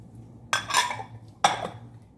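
A spoon scrapes and clinks against a pot while eggplant, minced meat and potato ingredients with a little oil are stirred, two short close bursts of clattering.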